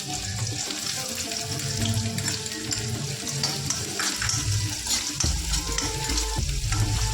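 Chopped onion dropped into hot oil for Kathiyawadi vagharela rotlo, a steady close sizzle and crackle running throughout with no voices.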